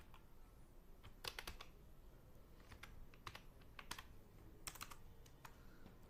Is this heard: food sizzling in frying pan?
no